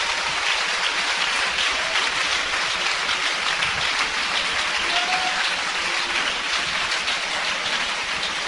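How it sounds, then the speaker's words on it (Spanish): Church congregation applauding during a sermon, a loud continuous roar of many hands clapping together, dense and steady for over eight seconds with no talk over it. "todo aquel que crea que está en el camino angosto, aplauda a Cristo este momento"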